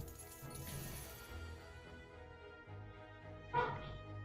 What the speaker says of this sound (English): Apologies for the dog barking in the background